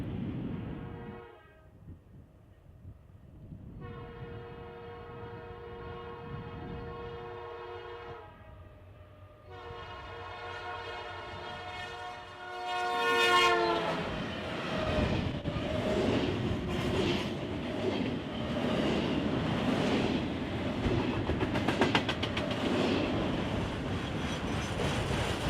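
A train horn blows several long blasts, then the heavy rumble and clatter of an eastbound Norfolk Southern freight train rolling past close by takes over.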